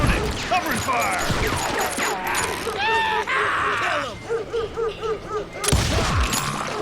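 A gunfight in the video game Call of Juarez Gunslinger: loud, dense bursts of gunshots and rattling shots run throughout, with shouting voices and game effects mixed in.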